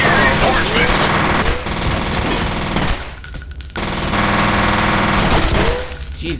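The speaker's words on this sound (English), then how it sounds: "The muzzle jump on these weapons. It really does. Especially that submachine gun." A submachine gun fires in the shooter game F.E.A.R., loud rapid bursts of automatic fire broken by a couple of short pauses, with game noise filling the background.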